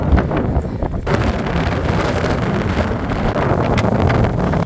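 Strong wind buffeting the microphone on the arid summit of Green Mountain in Montana, a loud, steady rumbling roar with gusty surges and no voices.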